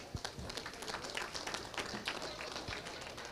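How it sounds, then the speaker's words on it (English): An audience at a winter farm show claps for Hereford heifer exhibitors. The claps are scattered and fairly light, with a few sharp taps standing out over a murmuring crowd. "Let's give the Hereford Heifers exhibitors a big round of applause today."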